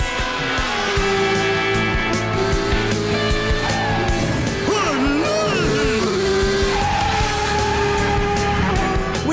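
A cartoon race car speeds around a track, with a loud continuous engine roar and sliding pitch sweeps under music and sound effects.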